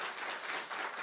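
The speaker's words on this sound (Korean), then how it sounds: "박수하시겠습니다" Church congregation at a Wednesday evening service clapping together, a short dense burst of steady applause, moderately loud, with no voices.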